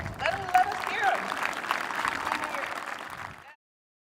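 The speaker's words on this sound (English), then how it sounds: "Give a round of applause to Mason" Fans cheering on a football player at a gathering, a warm wash of crowd applause with scattered voices, steady throughout before cutting off abruptly.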